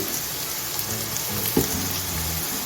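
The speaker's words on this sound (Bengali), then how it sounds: "সব কিছু আমি ভালো করে মিশিয়ে আরও দু মিনিট রান্না করে নিচ্ছি" Prawn and radish curry cooks in a pan with ghee and garam masala, giving a steady close sizzle with one brief stirring scrape partway through and no talking.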